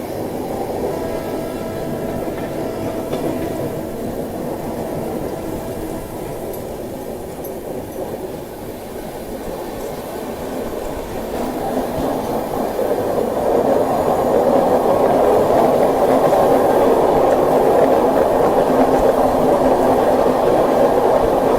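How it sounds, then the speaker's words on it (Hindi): The 12505 North East Express rolls along the tracks near Rangia in monsoon weather, a loud, continuous rumble with rhythmic wheel clatter that swells and grows heavier toward the end. "इससे हमारी नॉर्थ ईस्ट एक्सप्रेस जा रही है रंगिया होते हुए"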